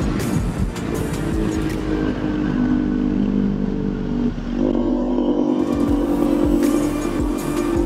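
Motorcycles riding past and revving on a road, with a loud, continuous engine roar that shifts in pitch and some clattery mechanical noise, no talking.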